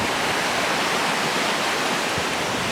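A flooded river in Portugal rushes past granite rocks after a storm, producing a loud, unbroken roar of churning water close by, with no speech.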